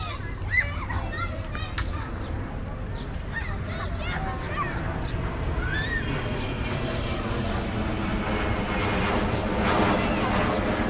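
A jet aircraft drones steadily in the sky above a park two miles from an airport, a broad roar that swells toward the end while children play and chatter nearby.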